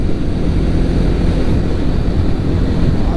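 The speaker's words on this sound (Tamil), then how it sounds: "காற்று ரொம்ப ஓவராக அடிக்குது." Strong wind roaring past a rider on a Jawa 42 motorcycle at highway speed, a loud, dense, unbroken low rumble buffeting the microphone throughout with no speech.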